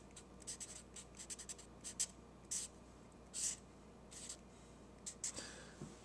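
Pen or marker writing out an equation by hand on a surface, a run of short scratchy strokes with brief pauses between them, close and fairly quiet against a low background hum.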